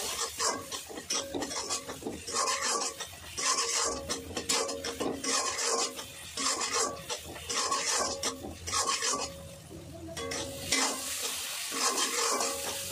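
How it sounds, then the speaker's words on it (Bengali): A spoon stirs turmeric, Kashmiri chili and coriander powder into tomatoes that are frying down in a pan. There are repeated close scraping strokes over a soft sizzle, in an uneven rhythm with short pauses. "টমেটোটা প্রায় গলে গেছে, তো এবার আমি দিয়ে দেবো মশলা, হলুদ গুঁড়ো, কাশ্মীরি রেড চিলি পাউডার, ধনে গুঁড়ো। ভালো করে মিক্স করে নেব।"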